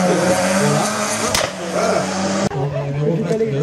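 Citroën Saxo race car at a hill climb: a loud, close engine roar revving under load, broken by a sharp gear-change cut partway through before the engine rises again.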